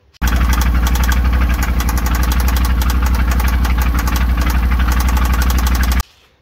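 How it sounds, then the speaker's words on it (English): A 2023 Yamaha RMAX engine needing a rebuild runs loudly and steadily with a harsh, rapid knocking clatter for about six seconds, then cuts off abruptly. "the engine makes some horrible sound"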